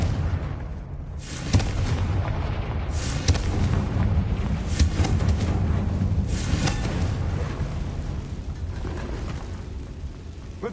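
Spell blast from Confringo in Hogwarts Legacy, booming bursts at about 1.5, 3 and 6.5 seconds over a constant loud low rumble of game ambience.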